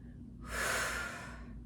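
A single forceful breath out during a home Pilates mat workout, a breathy rush that swells for about a second and then fades, heard close against a low steady background hum.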